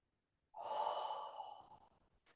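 One slow, deep breath drawn in and let out softly during a trauma-sensitive chair yoga session, close and quiet after a moment of silence.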